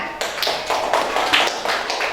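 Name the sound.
classroom children clapping hands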